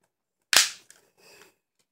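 A plastic calculator cracks under a punch: one sharp, loud snap followed by a faint tick and a brief rattling crackle.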